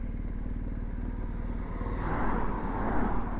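BMW R 1250 GS Adventure motorcycle riding off-road on gravel, its steady low engine drone close and continuous, swelling with a rougher rush of tyre and road noise partway through.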